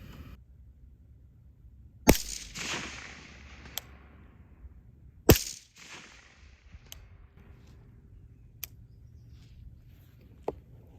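LWRC M6IC rifle firing at a steel target at an outdoor range, with two loud sharp shots followed by several fainter distant cracks and pings spread across a quiet background.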